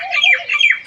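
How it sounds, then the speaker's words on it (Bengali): A common myna gives two harsh, squawking calls, loud and close, with rising and falling scratchy notes and nothing else heard. "আর আমার পিছনেও দেখতেছেন যে শালিক পাখি কীভাবে ডাকতেছে"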